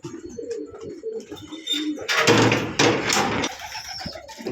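Jacobin pigeons kept for sale coo in soft, low, repeated murmurs, then a loud burst of rustling clatter, like flapping wings, breaks in over them for about a second.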